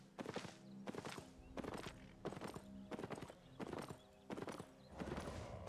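Hooves of a ridden horse in the video game Albion Online clip-clop in a steady walking rhythm, about a dozen clear, close strikes in evenly spaced pairs.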